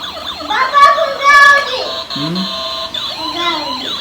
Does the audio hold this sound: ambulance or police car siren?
yes